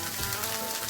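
Leftover rice with fried spice paste, chopped tomato, an egg and a little oil frying in a pan, making a dense, steady sizzle that stays close and even throughout, with no talking.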